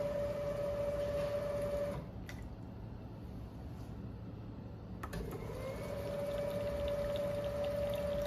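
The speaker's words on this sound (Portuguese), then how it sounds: "Então a gente faz o Prime várias vezes, então Prime novamente, para eliminar as bolhas de ar." A ReadyStream filter being primed repeatedly to purge air bubbles, with a steady mechanical pump hum that drops out for about three seconds mid-clip, then resumes, alongside faint liquid movement.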